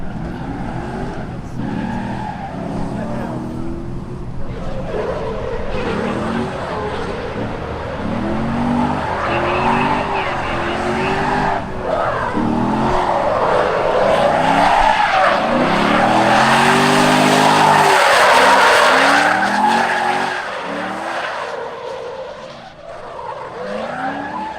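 A drift car in practice for a competition skids hard through its runs, tires squealing in long wavering wails over a roaring engine, loud and close, building to a sustained peak before easing off.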